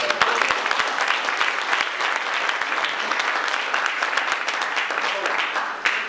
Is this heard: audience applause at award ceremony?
yes